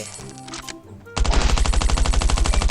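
Rapid automatic gunfire rings out in Last Island of Survival, a sudden dense burst of evenly spaced loud shots following a brief quieter stretch of scattered game sounds.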